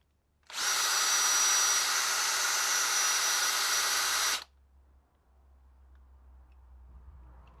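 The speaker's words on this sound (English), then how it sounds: "I'm going to stick them in the drill, clamping on the blind shoulder bit" A power drill spins a bolt against a scouring pad for polishing, loudly and steadily for about four seconds with a hissing, abrasive rush, then cuts off abruptly, leaving quiet background.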